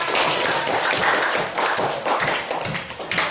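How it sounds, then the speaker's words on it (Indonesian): A classroom of students clapping their hands together in rhythmic bursts, sharp close claps repeating in a loose beat with a few brief pauses between groups. "Oke, berasa udah pada fokus sama tepuk tangan untuk kita semua."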